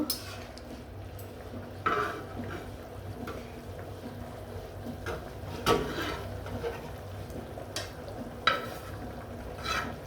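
Quiet, steady sizzle of rohu fish frying in oil, with occasional clinks and scrapes of a utensil against the pan.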